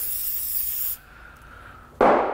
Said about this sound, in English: Just gonna spray some silicone spray on the boot.